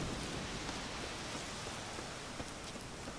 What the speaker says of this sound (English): But I see rain as well.